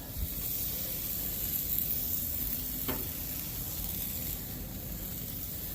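Vegetable kabobs sizzle on a grill as a steady, close hiss with a soft crackle running evenly throughout, with no talking.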